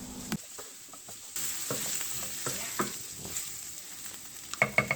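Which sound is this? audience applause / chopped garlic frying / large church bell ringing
chopped garlic frying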